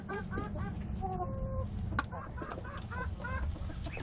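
Chickens clucking inside a coop in the morning, a few hens giving repeated short clucks and calls over a low steady background.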